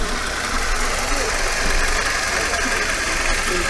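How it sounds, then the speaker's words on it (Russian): A used car's engine runs steadily at a used-car market in Almaty, Kazakhstan, a continuous mid-level hum with a faint knocking texture amid outdoor market noise. "Двигатель работает четко. Двигатель слышно, звук приятный."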